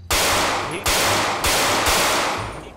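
Rapid bursts of gunfire at a GTA 5 roleplay shooting practice: four loud, close volleys of sharp automatic shots, each separated by short pauses, with no talking.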